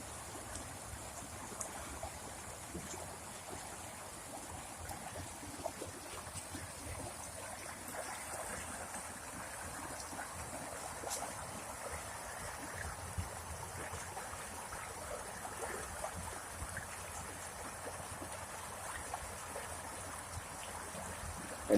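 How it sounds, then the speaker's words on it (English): A small roadside waterfall flows into a stream in a steady, even rush of water, continuous and fairly soft throughout with no speech. "there was like this little mini waterfall-y type of thing over here"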